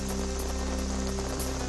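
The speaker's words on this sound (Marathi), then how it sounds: "दादर परिसरात मुसळधार पाऊस" Heavy monsoon rain pours down steadily in the Dadar area of Mumbai, a loud, dense, continuous hiss with no pauses and no voices.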